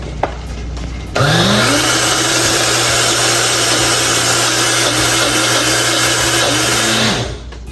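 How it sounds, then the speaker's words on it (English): A kitchen blender mixes blueberry muffin batter, starting with a sharp rising whir after a second and then holding a loud, steady motor drone for about six seconds before winding down. "So now I'm going to be mixing everything in a blender."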